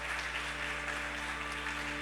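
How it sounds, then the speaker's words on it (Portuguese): A church congregation claps during a Christmas service, a steady dense wash of applause filling the whole moment with no voices over it. "Você pode aplaudir ao Senhor, você pode glorificar o Senhor."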